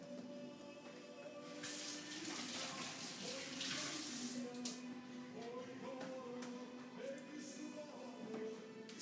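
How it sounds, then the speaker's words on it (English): Running tap water splashes over hands being washed at a kitchen sink, a steady broadband rush lasting the whole stretch, loudest in the first half, with faint background sounds beneath. "Let me wash my hand."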